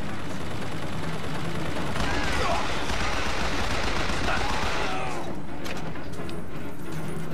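Automated turret gunfire in the video game Bioshock Infinite, a loud sustained fusillade of rapid shots with crashing impacts, continuing steadily across the whole stretch.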